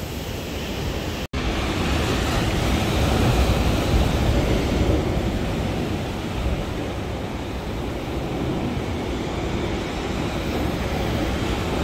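Surf crashing onto a beach near Sydney, Australia, a continuous loud roar of breaking waves with no talk, interrupted once by a brief sharp click early on.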